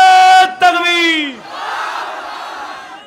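A large crowd at a Bangla waz religious gathering roars the takbir response in unison, a swelling collective shout that follows a single loud lead voice and then hangs as a broad, sustained crowd roar.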